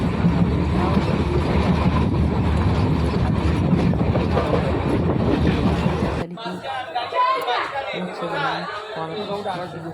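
A moving train rumbles with a steady clatter under chatter for about six seconds, then cuts abruptly to quieter, closer talking.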